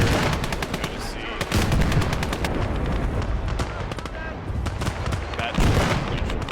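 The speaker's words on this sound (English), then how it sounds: "Typically this is how I handle shooting artillery or long distance AT" Battle gunfire from the Gates of Hell video game, where an artillery field gun is in use: dense bursts of sharp cracks and booms, loud and close, with rapid repeated shots and heavy reports running throughout.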